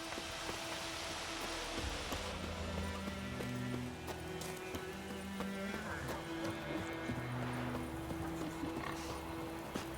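Roach the horse trots in The Witcher 3, hooves clip-clopping in a steady rhythm over a dense wash of game ambience and music, with a neigh-like tone now and then.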